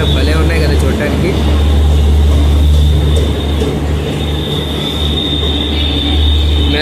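A Garib Rath Express train starts out of Duvvada station at night with a loud, continuous rumble of rolling wagons and a sustained high wheel squeal. Talk can be heard faintly beneath the noise.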